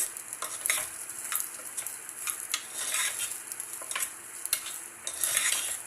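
Food frying in a pan over a medium gas flame, giving a steady soft sizzle broken by frequent light scraping and clinking stirs of a utensil against the pan.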